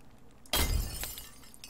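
A cracked mirror is smashed in the horror game Uncanny Valley: one sudden glass break with a bright shattering burst and a low thump, then tinkling shards trailing off quietly.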